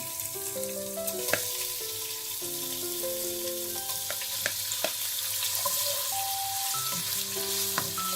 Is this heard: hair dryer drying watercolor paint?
no